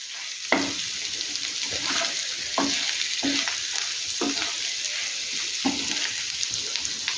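Potatoes frying in a pan as spices are stirred in, a soft continuous sizzle punctuated by a spoon scraping and tapping the pan every second or so, close and fairly quiet.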